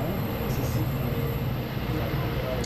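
A train rumbles steadily along the rails with a continuous low, even roar throughout, no driver aboard, heard close and fairly loud without any talk.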